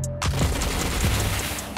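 Loud, rapid gunfire rattles in bursts during a Mech Arena mech battle, dense overlapping shots filling almost the whole stretch.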